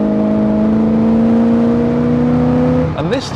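A Jensen FF's engine pulls hard under kick-down acceleration, a steady loud drone holding near and rising slightly in pitch, then shifting abruptly as the gear changes near the end.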